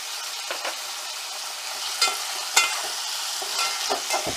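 Tomatoes tossed into shallow-fried onions for a raw banana bhaji fry in a pan with a continuous moderate sizzle, broken by sharp clicks and scrapes of stirring.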